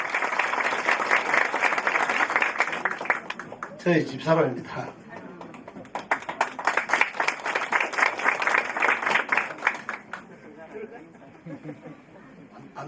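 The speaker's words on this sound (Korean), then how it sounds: "여러분 다시 한번 큰 박수 주세요." Crowd applause at a Korean silver nursing center opening ceremony, bursts of clapping that swell, dip briefly, then build again, with someone speaking at moments over it.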